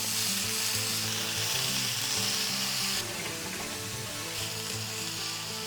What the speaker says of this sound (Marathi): हे सगळं आपण परतून घेऊ